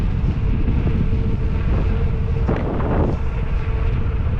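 Wind buffets the microphone on a bike ride along the Saint Vrain Greenway, a continuous low roaring rush that swells and gusts briefly near the middle, with no voices.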